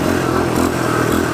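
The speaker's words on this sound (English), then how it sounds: "let me pull off one more second gear here" A pit bike pulls away in second gear through a parking lot, its small engine roaring loud and close with a steady, continuous drone and some rattling clatter throughout.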